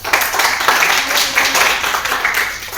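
An audience at an indoor team meeting breaks into applause, a dense, steady wash of many hands clapping that swells in uneven waves and fills the room throughout.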